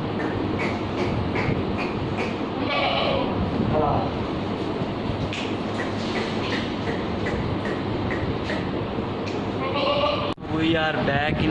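Goats bleat repeatedly amid a busy Bakra Mandi livestock market in Bahawalnagar, Pakistan, their calls rising over constant crowd chatter and background din; a sharp drop near the end gives way to another rising bleat.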